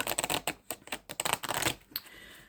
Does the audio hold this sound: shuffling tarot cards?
yes